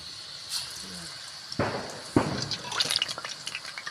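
Murukku dough is lowered into hot oil in a kadai and sets off a rising bubbling sizzle after a couple of soft splashes, loud and close.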